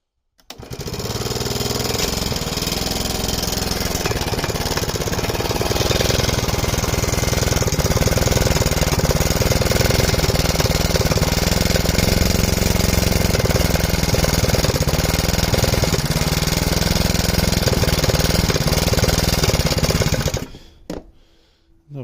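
A go-kart's small engine runs loudly and steadily for about twenty seconds with a buzzing, rattly drone, choke on, then cuts off abruptly near the end.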